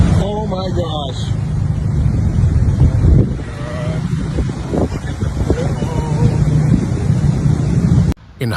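Massive ocean waves striking the flooded California coast, heard as a heavy rumbling surge and wash under strong wind buffeting the microphone, with voices talking over it.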